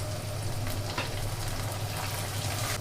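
Chopped tomato dropped into hot oil with crushed garlic and ginger, giving a continuous moderate sizzle with a low steady hum, no voices.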